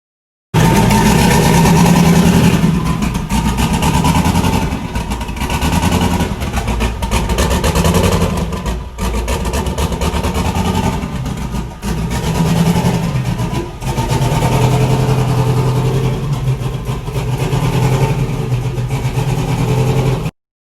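A car engine idles steadily right after a fresh startup following new spark plugs, a loud continuous low rumble close by with a brief dip partway through and no talking.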